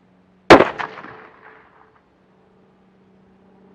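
A single loud shot from a glass-bedded Franchi Momentum .308 rifle at a range, a sharp crack that rings out and decays over about a second, followed by near silence.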